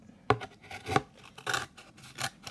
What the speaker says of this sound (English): my scissors aren't great for cutting cardboard